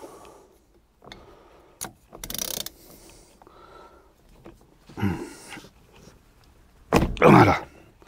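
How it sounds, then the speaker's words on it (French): A large wrench works a tight Torx 50 screw at the centre of a Renault Twingo 1 steering wheel: scattered close clicks and ratcheting creaks, ending in a louder grinding crack as the screw gives way. "Là on est parti pour retirer la vis centrale du volant. Alors munissez-vous d'une clé assez grande parce qu'en général c'est serré assez fort"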